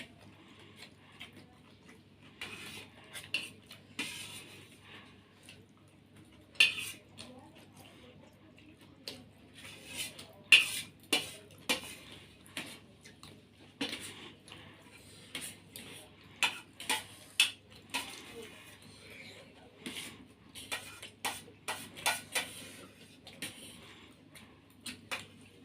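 A spoon clinks lightly against a dish while someone eats spicy pasta manchurian, giving faint, irregular taps and clicks scattered over a quiet background.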